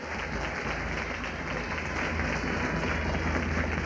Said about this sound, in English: What about a round of applause for my sister-in-law?